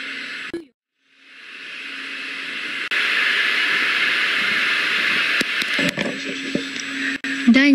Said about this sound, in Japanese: Second stage engine ignition.